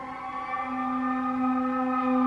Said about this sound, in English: Interesting how the sirens are going off right now.